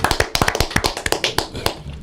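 Sharp, close hand claps in a quick, slightly uneven burst of about a dozen, thinning out and stopping toward the end, with no talking over them.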